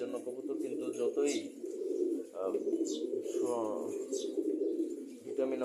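Pigeons coo in a loft, their low throaty calls repeating steadily through the whole stretch, with occasional brighter chirps above.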